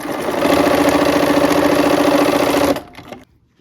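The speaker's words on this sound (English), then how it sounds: "We're going to go ahead and sew this square to the rectangle." A close, loud sewing machine runs steadily for about three seconds, stitching a quilt fabric square to a rectangle, then stops abruptly and a few faint handling clicks follow.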